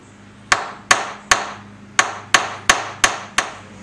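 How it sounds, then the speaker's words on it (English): Eight sharp metallic hammer strikes peen over the rivet end of a puukko knife's stick tang, ringing out close and clear at an uneven, roughly half-second rhythm with short decays. "peen over this little piece of the very tip of the tang"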